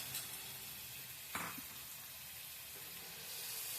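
Marinated vegetables fry in a pan for veg Doone biryani, a steady, quiet sizzle throughout with one brief burst of stirring or tossing partway through.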